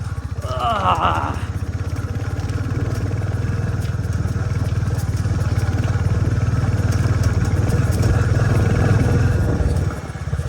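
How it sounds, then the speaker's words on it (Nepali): A Hunter motorcycle climbs uphill toward Chok Narayan Danda with a steady, close engine drone and mechanical clatter that lasts throughout, and a brief voice is heard near the start. "यो बाइक चाहिँ एडभेन्चरकै लागि रहेछ"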